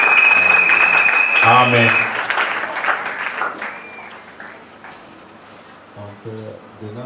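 A church congregation bursts into applause after a Scripture reading, with loud, dense clapping and voices that fade over several seconds. Someone speaks over the tail end as the clapping dies down.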